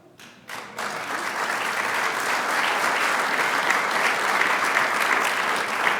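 Audience applause at a city State of the City address, starting with a few scattered claps and swelling into sustained, loud, even clapping from a large crowd.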